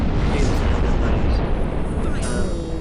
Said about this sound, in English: Sorry, the explosion noise.